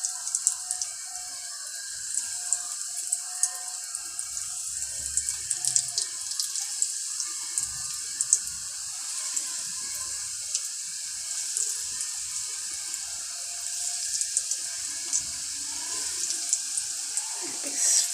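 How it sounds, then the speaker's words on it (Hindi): Potato balls fry in hot oil over a medium-low flame, giving a steady, fairly quiet sizzling hiss dotted with small crackles and pops throughout, close by with no clear talking. "फ्राई करते हैं इसको धीमी आंच पे, ज़्यादा हाई पे नहीं करेंगे"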